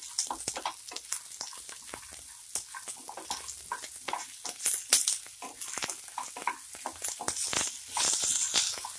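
Tomatoes frying in a pan while cooking chicken keema saru, a steady hissing sizzle with intermittent stirring scrapes and clinks running throughout at close range.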